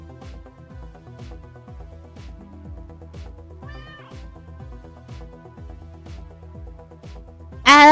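A cat meows repeatedly in a steady series of short calls over a looping background music track, with a sudden loud burst of noise at the very end.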